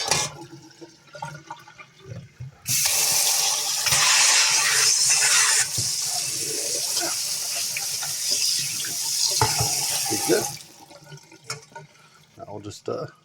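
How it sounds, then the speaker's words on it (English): Tap water runs steadily for about eight seconds as an antique iron key is rinsed under a faucet, the broad hiss of the stream filling the middle of the clip, with light handling clatter and faint talk before and after. "rinse this off again."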